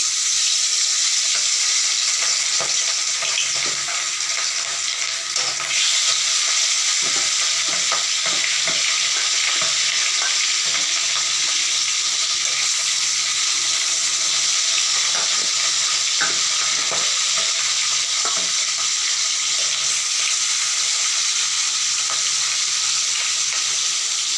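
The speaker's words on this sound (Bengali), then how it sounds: "মাছগুলো আমি গরম তেলে ছেড়ে দেবো" Hilsa fish pieces fry in hot oil in a kadai, a loud, steady, close sizzle and hiss with scattered crackles and pops throughout, no voices.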